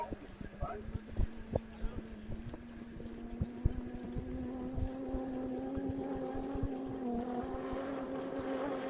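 A motorboat engine drones steadily underneath, with wind buffeting and clattering knocks, while a voice talks over it from the boat's cockpit during a boat race.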